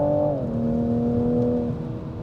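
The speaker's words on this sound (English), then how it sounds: "So let's now give it full throttle. The wheel spin, it's so nice." Engine of a 2023 Toyota Supra, 340 horsepower, on winter tires, pulling hard at full throttle with wheel spin: a steady close-up drone that drops in pitch after a gear change, then holds an even tone.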